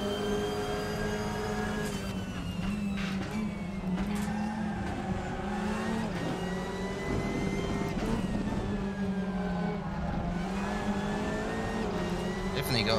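A WTCR touring race car engine in RaceRoom, Race of China, holds a loud sustained whine with rising and falling revs as gears shift, while someone talks over it.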